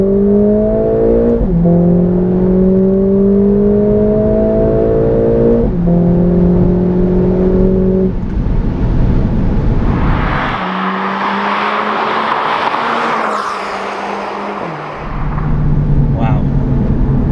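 A Mercedes A45S AMG drives hard around a race track, its engine loud and close, rising in repeated revving pulls between gear changes, then easing off before accelerating again, with a voice talking over it.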